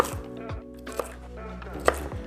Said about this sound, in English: we're ready to chop these up nicely here